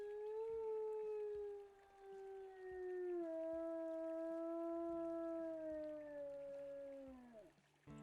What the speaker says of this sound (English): One more howl should do it.